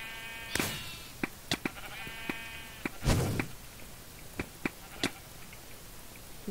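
Sheep bleating in Minecraft on the Mineplex server: a few short, fairly quiet bleats spread out among scattered clicks and a louder whooshing hit near the middle, with no talking.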